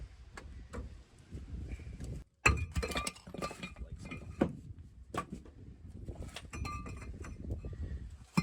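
Metal parts clink and tap sharply in irregular bursts while a car's brake disc is taken off its hub during a brake pad and disc change, close and quiet, with no voices.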